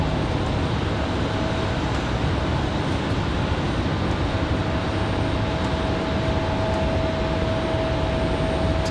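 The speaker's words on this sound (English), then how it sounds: "We've got another United headed out to the end of the runway. That looks like an A320" A United Airbus A320 jet airliner taxiing toward the runway at Raleigh-Durham International Airport on a windy day, heard as a steady, unbroken engine roar with a faint whine, constant in loudness, no talk.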